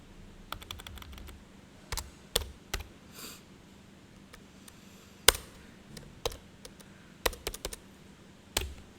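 Typing C program code on a computer keyboard, with quick bursts and scattered single keystrokes close by, separated by short pauses and with no talk.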